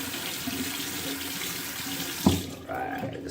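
Water runs steadily from a tap to wet a razor before a shave, a close, constant rush that cuts off abruptly near the end with a soft clunk.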